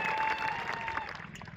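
An audience at a Koli community gathering in Devgadh Baria gives a brief round of applause, a fairly faint, steady patter of clapping from the crowd.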